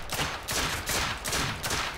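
Video game gunfire in four or five quick bursts about half a second apart, loud, dense and close, with no voices.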